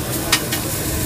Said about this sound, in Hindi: तो पहले ये प्याज को फ्राई करते हैं